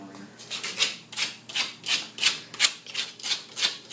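Rusty metal being sanded by hand with sandpaper: about ten rhythmic, evenly spaced rasping strokes, close and fairly loud, with no talking.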